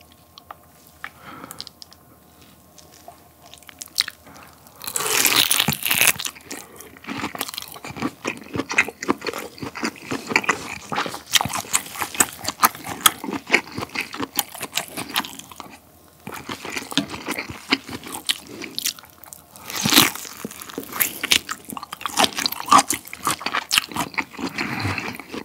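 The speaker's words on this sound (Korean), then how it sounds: "요 치즈 소스를 찍어 먹어보면 어떨지 진짜 궁금했는데 한번 먹어볼게요" Close, wet biting and chewing of a whole pork belly dipped in cheese sauce, with repeated squishy crunches and smacking bites over a long stretch and no talking.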